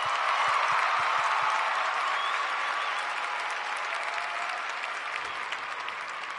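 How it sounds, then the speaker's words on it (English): Sustained crowd cheering and applause fill a women's football match, Claremont versus WWTWFC, a steady broad roar with clapping that stays loud throughout and eases slightly toward the end. "The crowd noise tells you all you need to know."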